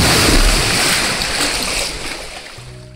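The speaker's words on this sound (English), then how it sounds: "hear lots of water sloshing ahead" Water sloshes and surges nearby inside a sea cave in a loud, rushing wash that slowly recedes and fades, echoing faintly in the enclosed space.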